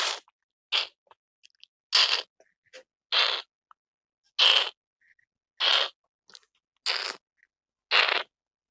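A voice mimics sandal-clad footsteps crunching over dry forest leaves: about eight crisp, crackly bursts at a steady walking pace, close and isolated against silence, with a couple of softer steps at the start.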